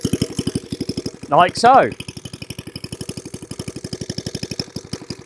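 Suffolk Squire lawnmower engine idling with a rapid, even putter, briefly interrupted by a short spoken phrase, then chugging on steadily after the clutch drops it into gear.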